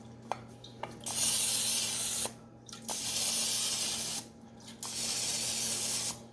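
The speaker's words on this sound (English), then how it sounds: "So I'm going to spray these down now." Several hissing bursts of non-stick aerosol spray into a bundt pan, each lasting a second or more with short pauses between, close and fairly loud over a low steady hum.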